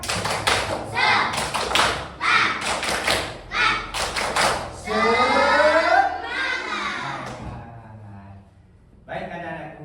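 A classroom of children doing the 'tepuk semangat' chant, with bursts of sharp, rhythmic group claps mixed with loud chanting voices, followed by a longer stretch of shouted chanting and a short final clap burst.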